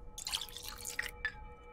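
Water drawn from a tap in the video game Pathologic 2: a short splashy trickle lasting about a second, then a brief second spurt, quiet and close.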